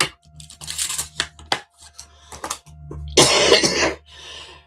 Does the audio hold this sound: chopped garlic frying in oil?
no